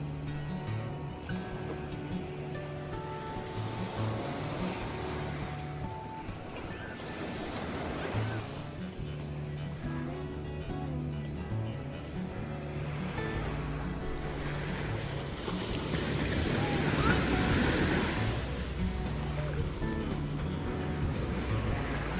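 Ocean surf rolling onto a dark-sand beach in Tahiti, a steady wash of breaking waves with wind buffeting the microphone, building louder toward the end.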